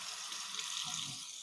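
Water running from a tap onto a removable Keurig coffee maker part during rinsing, a steady broadband splashing hiss that holds alone and even for the whole moment.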